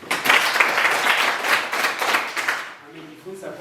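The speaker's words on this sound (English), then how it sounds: "Clap for him again." A class of schoolchildren claps again for a student, dense hand-clapping that carries on strongly and then fades out near the end as a voice begins speaking.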